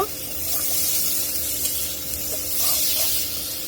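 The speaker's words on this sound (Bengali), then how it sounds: "পেঁয়াজ রসুনটা একটু ভেজে নিব" Onion and garlic frying in oil with a continuous soft sizzle and hiss, a few faint utensil taps over the top.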